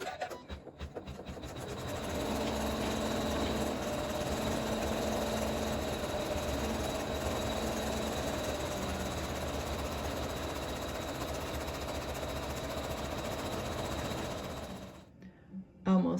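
A computerized embroidery machine sews a satin stitch in red thread along the raw edges of quilted Dresden fabric blades, a steady loud mechanical whirring hum that runs unbroken for about thirteen seconds before stopping.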